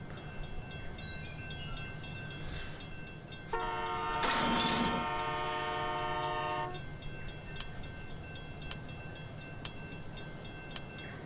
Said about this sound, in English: I'm actually kind of curious to see what will happen if we push this train forward